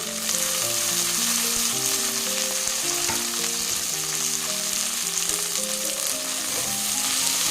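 A handful of mint leaves and coriander leaves frying in oil with a steady, dense sizzle that runs unbroken and fairly loud throughout, alone with no voices.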